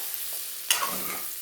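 Vegetables being stirred and mixed in a hot pan, a steady soft sizzle with one sharp scrape of the spoon partway through, close and moderately quiet, no voices.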